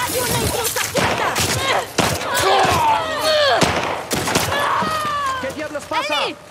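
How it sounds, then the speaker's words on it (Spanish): Gunfire from The Last of Us Part II bursts out in sharp repeated shots and short volleys, spread across the scene under almost constant speech and shouting. "¿De dónde diablos vinieron esos tiros?"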